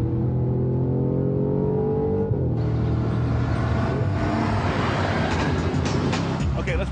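2013 Audi RS5 V8 engine revving hard under acceleration, a loud, continuous growl that climbs in pitch and then opens into a louder, rougher bark partway through, heard close up from inside the car.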